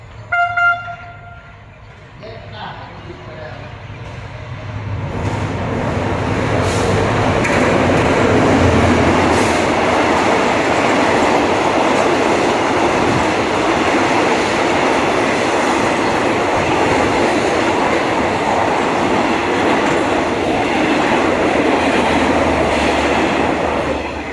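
Express train 171 from Bangkok's Krung Thep Aphiwat to Sungai Kolok runs through Khuan Niang station without stopping. A brief tonal sound opens, then a loud, sustained rumble and rattle of passing carriages fills the rest.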